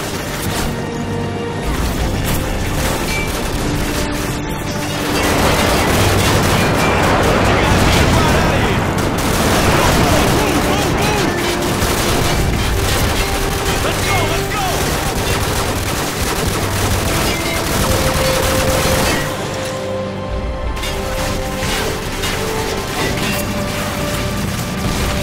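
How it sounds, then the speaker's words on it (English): Airstrike explosions and gunfire in the shooter game Call of Duty 4: Modern Warfare, a dense continuous battle roar with heavy booms and crashes peaking midway, mixed with voices and game sounds. "Target confirmed. Stand by for airstrike."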